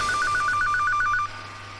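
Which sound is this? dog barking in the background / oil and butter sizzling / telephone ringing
telephone ringing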